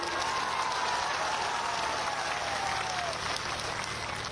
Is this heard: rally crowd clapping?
yes